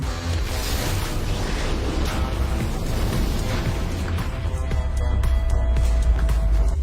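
Rockets fire continuously in an action film chase, enemies pursuing a man on a motorcycle in the mountains; a dense, roaring barrage of whooshes and rumbling blasts that swells louder toward the end, with no talk.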